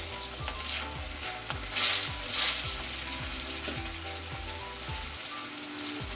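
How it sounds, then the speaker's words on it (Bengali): Chunks of potato and pointed gourd frying in hot oil make a loud, steady sizzle, with repeated scraping strokes from stirring running underneath it throughout. "আলু পটলটাকে ভেজে নেবো, তারপর মশলা কষে বসাবো।"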